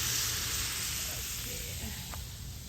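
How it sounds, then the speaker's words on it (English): Bangamary fish in batter frying in oil over a lakeside fire, a soft steady sizzle and hiss under a breezy outdoor background, fairly close and continuous. "It's covered in the oil, frying in the batter mix."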